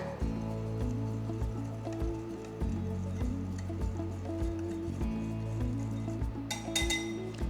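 A utensil mixes maida flour with baking powder in a bowl, making a steady, rhythmic clinking against the sides that repeats every second or so.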